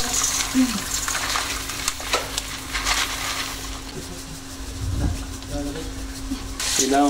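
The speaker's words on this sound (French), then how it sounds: "on va faire dorer tout doucement le riz un petit peu" Rice for risotto alla milanese toasting in a pan, a soft sizzle with scraping and stirring close up, irregular and moderately loud, with a hum underneath and brief talk.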